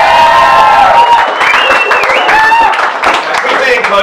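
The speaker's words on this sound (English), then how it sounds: "can I get a big round of applause for everyone who's spoken tonight?" Applause and cheering from a crowd at an evening speaking event, dense and sustained throughout, with whoops and voices mixed into the clapping.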